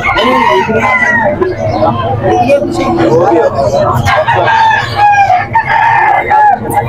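A young gamecock stag crows repeatedly at a busy rooster market in Calumpit, Bulacan, its loud cock-a-doodle-doo calls rising over other fowl clucking and crowing nearby, with people talking throughout.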